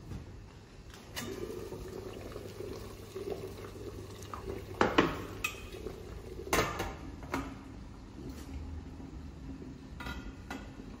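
Water boils beneath a steaming sieve, a faint, low simmering bubble with soft drips and a few sharper pops and knocks scattered through it, close but quiet, with no one speaking.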